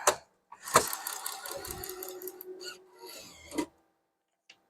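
A harsh mechanical grinding and rasping from a faulty bill validator runs for about three seconds, with a sharp clack at the start and another near the end, then stops.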